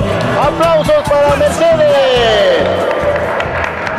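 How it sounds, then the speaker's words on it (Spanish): A crowd at a Christmas street dance competition in Cuenca claps and cheers under a loud presenter's voice and background music, a continuous busy wash of hands and voices. "Aplausos para"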